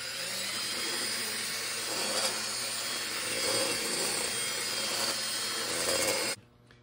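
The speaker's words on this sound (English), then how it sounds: "This is a deburring tool." A deburring tool cleans a drilled hole in an Echo 590 Timberwolf chainsaw muffler, a steady loud grinding rasp lasting about six seconds before stopping abruptly, with no talk.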